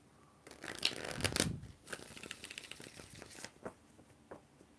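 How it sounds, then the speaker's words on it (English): A deck of tarot cards is shuffled at close range during a live reading, with quick riffling bursts and soft crinkly slides, loudest early on, then scattered lighter taps and rustles. "And one more shuffle."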